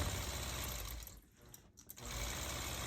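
Long-arm quilting machine stitching a disappearing nine-patch quilt, a steady close whirring hum that dips briefly midway, then resumes at full level.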